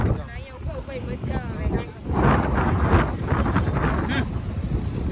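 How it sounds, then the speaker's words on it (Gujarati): Strong wind roars across Madhavpur beach during a storm, a loud, steady buffeting rush against the microphone with surf underneath, and a voice talking over it at the start. "અહીંથી એમ હામો પવન આવે એકદમ સામે"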